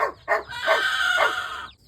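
A chicken gives a couple of short clucks followed by a longer drawn-out call, close by and clear.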